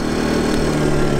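A CAT INV2000 inverter generator runs steadily at camping site, a constant close engine drone with a low hum and no pauses, exhaust aimed away.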